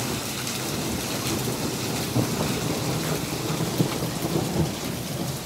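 Heavy rain and hail hiss steadily on surfaces while low thunder rumbles underneath, a dense, unbroken storm wash with no voices.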